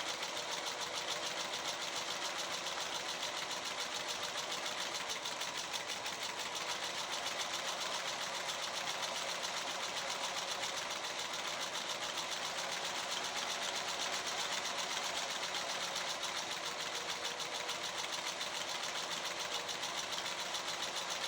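A sewing machine runs steadily, stitching through fabric for a junk journal, a continuous close mechanical whir with no pauses and no voices.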